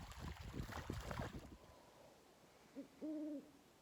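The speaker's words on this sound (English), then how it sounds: "Owls hunting in the woods." A few soft owl hoots sound in night woods, following a burst of rustling noise; the calls are short, tonal and moderately distant.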